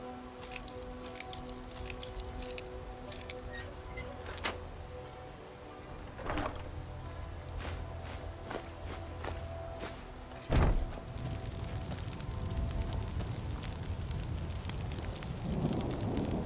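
Rain falling in the video game Skyrim, a steady patter of drops on surfaces with occasional louder thumps and game sounds, no voices.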